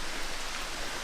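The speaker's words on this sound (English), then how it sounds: "the rain has just started falling" Rain falling steadily through a forest in Allegheny National Forest, a soft continuous hiss of drops at a moderate level with no voices.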